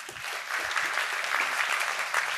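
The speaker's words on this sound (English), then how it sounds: "round of applause to Jeremy." An audience at an improv theatre talk on leadership applauds, a steady, dense patter of clapping that fills the short moment.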